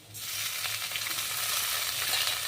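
Fenugreek leaves hit a pan of fried crushed peanuts and begin frying, a steady broadband sizzle that swells within the first moment and then holds evenly loud, with no talking.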